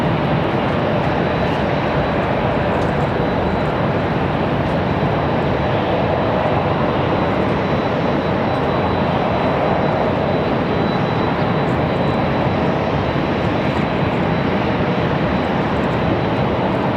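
An Icelandair jet airliner on approach to Raleigh-Durham airport roars steadily and loudly for the whole stretch, a broad continuous engine rush with no pauses.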